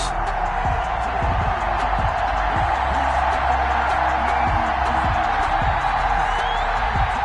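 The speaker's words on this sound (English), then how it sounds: "This crowd is ready as their guys get set to match up between the Denver Broncos and the Chicago Bears." In an NFL football video game with the Denver Broncos playing the Chicago Bears, a dense stadium crowd roars steadily throughout, with scattered cheers and thumps and no gaps.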